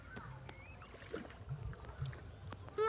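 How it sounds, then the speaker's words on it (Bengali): An old wooden rowboat is rowed across a large lake, with soft, irregular low splashes and knocks of the oars against water and hull, quiet and close amid faint wind. "দেখুন আমার স্ত্রী নৌকা চালাচ্ছে"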